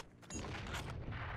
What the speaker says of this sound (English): Oh, that's a fucking grenade!